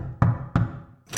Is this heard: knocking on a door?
yes